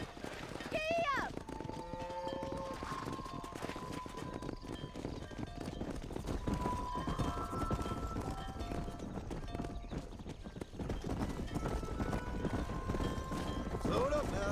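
Horses gallop while driving cattle in the Red Dead Redemption video game, a steady rhythmic clip-clop of hooves running under voices shouting throughout, with occasional whinnies and other game sounds.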